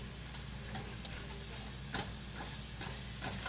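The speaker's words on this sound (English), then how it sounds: "I'm just kind of breaking it up with my fork, making sure it don't stick" Sausage frying in a pan on a stovetop, broken up with a fork, gives a steady low sizzle with a few soft scraping clicks and one sharp tap from the utensil, close and fairly quiet.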